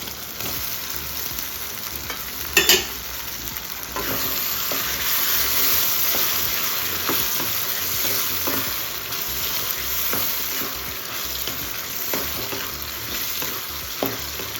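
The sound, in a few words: brinjal frying and being stirred with tomato and onion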